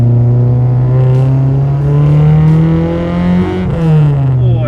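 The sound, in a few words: Honda Civic engine revving as VTEC engages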